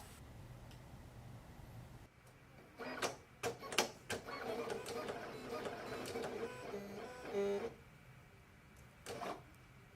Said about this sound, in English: To make a test cut, load your material into the machine and click Test.